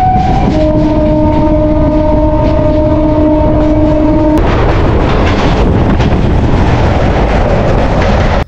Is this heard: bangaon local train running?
yes